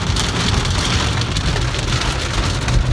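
Heavy rain pours down outdoors in a dense, steady hiss with no break, close and loud, and no voices are heard.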